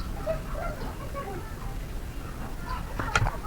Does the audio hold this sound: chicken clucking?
yes